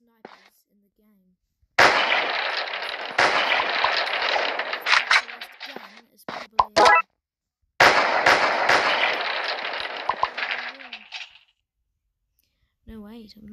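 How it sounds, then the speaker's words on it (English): Gunfire from a .50 caliber sniper rifle in the wall-defense shooter game Titan Attack comes as two long, dense bursts of loud cracking shots, separated by silence and a few isolated blasts, with brief talk at the end. "since it's got a 50 caliber, it's one of the most powerful snipers in the game."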